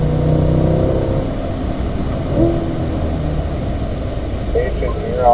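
A Chevrolet C8 Corvette engine on the Spring Mountain track, heard close and steady from the cabin as it downshifts to third gear under braking, a brief rev blip standing out amid the rumble.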